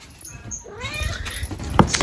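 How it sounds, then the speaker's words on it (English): A hungry cat meows several times, rising and falling cries close by, with household movement and a sharp knock near the end. "my cat is very hungry"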